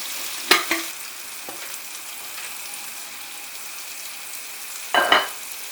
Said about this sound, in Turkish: bu şekilde kapağı kapalı bir şekilde yumurtalarınızın istediği kıvama gelene kadar pişirmeye bırakacağız